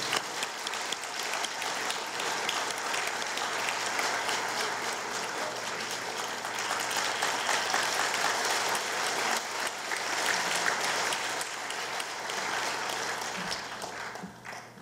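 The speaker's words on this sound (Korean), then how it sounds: "존경과 감사의 박수 한번 부탁드립니다." An audience at an honorary doctorate ceremony claps steadily and warmly throughout, a dense sustained applause of a large crowd with no break and no voices standing out.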